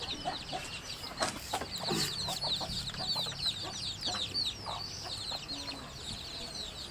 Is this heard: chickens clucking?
yes